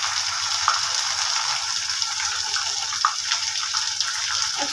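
Garlic paste hitting hot oil in a pan, a steady bright sizzle with small pops and crackles throughout, close and unbroken.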